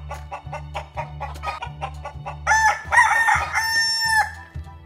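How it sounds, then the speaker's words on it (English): On a farm, a rooster crows loudly and nearby hens cluck in quick bursts, while a low, pulsing hum repeats steadily underneath. "The rooster wakes us up in the morning like an alarm clock."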